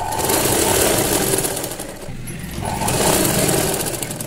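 A sewing machine stitches thread piping onto a square blouse neckline, whirring loudly up close in a long burst, pausing briefly, then whirring again.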